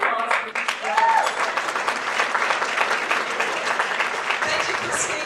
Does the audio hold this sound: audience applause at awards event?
yes